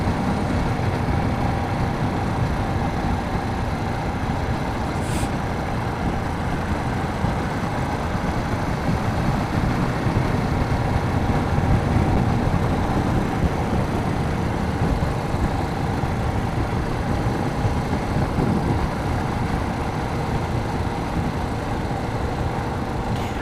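A 2014 KTM 690 Duke single-cylinder motorcycle engine runs steadily with a deep, continuous rumble, loud and even from start to finish with no talking.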